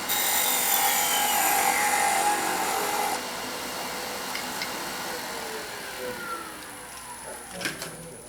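A skew chisel cuts a wooden Christmas ornament spinning on a lathe. A steady hissing scrape is strongest for the first three seconds, then eases into a quieter whir with faint taps near the end.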